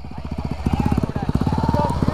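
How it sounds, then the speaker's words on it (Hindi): An off-road motorcycle engine crosses a river with a close, rapid, throbbing putter that surges and settles, while voices talk and shout over it. "निकल गई दूसरी बाइक भी पार के लिए"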